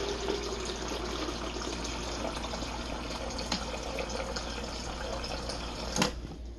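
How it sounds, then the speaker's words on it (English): Water runs from the dispenser of an LG refrigerator after a filter change, a soft steady trickle and fill with a few brief splashy clicks, quiet and close. "we're just gonna keep running the water until it's completely clear"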